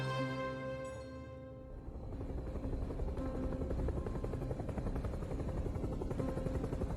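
A helicopter flies overhead with a loud, steady rotor chop that builds after a brief fading tonal sound and then holds at constant strength.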